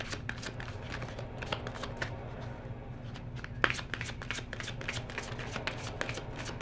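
A deck of psychic tarot cards is shuffled by hand at close range, with a steady run of quick riffling flicks and one sharp snap partway through, over a low background hum.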